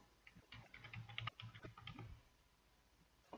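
A password is typed on a computer keyboard while unlocking a BitLocker-encrypted USB drive in Windows 10: quiet, close, irregular key clicks in short bursts, tapering off to near silence with one last tap.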